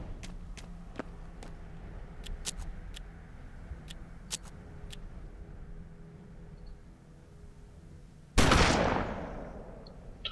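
Gunfire in the Western video game Hard West: scattered sharp single shots early on, then a loud, sudden blast that rumbles and fades near the end.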